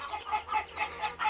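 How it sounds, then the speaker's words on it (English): Backyard chickens just let out of their coop cluck in short, quick repeated notes, close and fairly soft, with no talking over them. "just letting your chickens out, sitting there just watching them"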